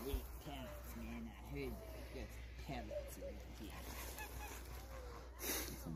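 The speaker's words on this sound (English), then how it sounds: "Look at this little hot mess goose." A goose at a garden wetland gives a series of short nasal honks in quick clusters, fairly close but soft, mixed with other bird calls and outdoor ambience while people talk nearby.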